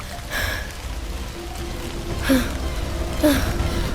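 Rain falls in the Minecraft game as a steady, even hiss throughout, with a couple of brief vocal gasps rising above it.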